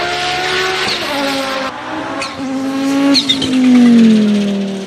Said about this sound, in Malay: Biasa orang panggil bunyi ni bunyi turbo lah.